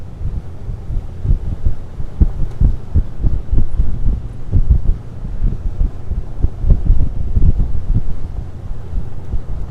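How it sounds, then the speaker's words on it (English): Wind buffets the open flybridge of a Schaefer 450 yacht cruising at 21 knots, a loud, low rumbling gusty roar with irregular thumps, no voices. "The wind is bearable"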